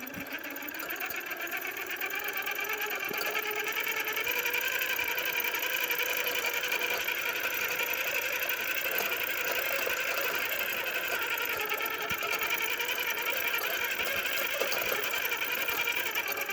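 TRX4 High Chill Edition RC truck with a brushed motor running continuously, a steady high-pitched electric whine with gear chatter, close and even throughout.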